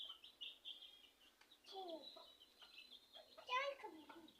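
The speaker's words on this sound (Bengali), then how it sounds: "তো মুরগিগুলো ছেড়ে দিলাম, খুবই দুষ্টামো করতেছিল।" Chickens being let out make soft, faint clucks and chirpy calls in short bursts, heard at a distance in a quiet outdoor setting.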